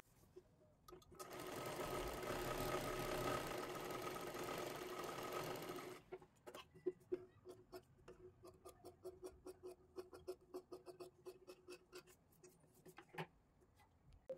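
A sewing machine stitches along a fabric sleeve in one steady, loud run of about five seconds, then falls to a scatter of sharp clicks and small mechanical taps.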